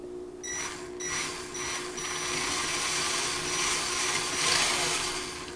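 Small electric motor of a radio-controlled car running steadily, a continuous whine with a faint hum underneath, close by and moderately loud with slight swells in pitch and level, no talking.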